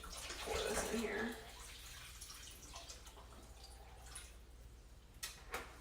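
Filtered, not tap, water pours briefly with a hollow splashing into a pot for bone broth, then stops, leaving quiet room tone and a few faint drips and clinks.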